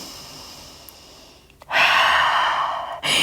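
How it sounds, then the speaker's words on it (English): During a yoga session, someone takes a deep breath: a quiet stretch is followed by a loud, close, rushing exhale that lasts more than a second, and a brief fresh breath starts at the end. "Take a deep breath."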